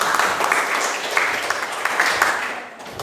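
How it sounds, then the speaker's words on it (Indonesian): A classroom of students claps for a classmate, a dense, steady patter of many hands, moderately loud and close, lasting about three seconds. "Oke, aplaus dulu buat Samsul"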